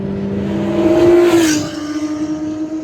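A Subaru BRZ races on track and overtakes a Honda NSX, its engine note climbing loudly under acceleration, then dropping as the car shifts, with a rushing pass-by swell and steady droning after, heard close from inside.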